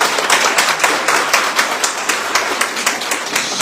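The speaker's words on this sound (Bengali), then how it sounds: "সত্যি আজকে প্রতিযোগিতার যারা অংশগ্রহণকারী ছিলেন সবার জন্য আমরা একটা জোরে হাততালি দিব।" An audience claps for the participants of a Bangla speech contest held for Japanese nationals, with many hands producing a loud, steady, slightly rhythmic patter close by, with no talking.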